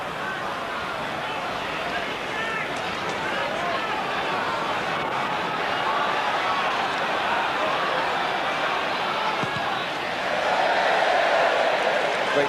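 A football crowd at a Tottenham versus Manchester United match roars in a steady, dense wash of cheering and hubbub that swells louder near the end, with a commentator talking over it.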